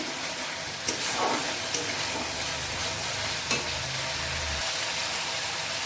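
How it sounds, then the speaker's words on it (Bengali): Masala paste frying in a pan for a fish curry with raw mango, giving a steady close sizzle broken by a few sharp clinks and scrapes of a spatula stirring. "আমার মশলাটা ভাজা ভাজা হয়ে গেছে"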